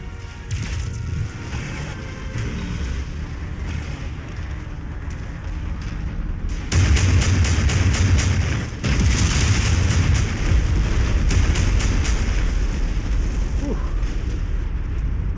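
Mech weapons in MechWarrior 5 fire and explode in a continuous barrage of booms and blasts that swells louder midway, with rumbling impacts and no speech.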